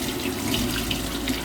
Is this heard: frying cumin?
no